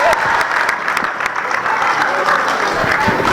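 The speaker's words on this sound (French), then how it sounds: "On l'applaudit, on l'applaudit." Loud, sustained applause from an audience at an entrepreneurship panel at FIPA 2023, a dense, continuous clatter of clapping close by with a few sharper individual claps.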